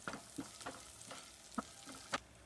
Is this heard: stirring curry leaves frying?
yes